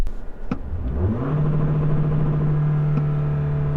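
A 2020 Toyota Camry S engine revs in neutral and bounces off its rev cutout. The revs climb quickly, then hold at a flat, buzzing plateau with a stuttering, launch-control-like limiter sound, close and loud, with no talk.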